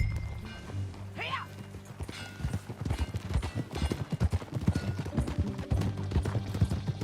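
Horse hooves clip-clop at a steady trotting rhythm in Red Dead Redemption 2, close and distinct, with a brief whinny near the start and low game ambience underneath.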